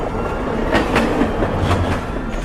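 A train rumbles steadily along the rails, a loud continuous roar with a few faint clacks, no voices.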